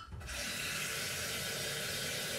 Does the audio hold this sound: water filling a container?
yes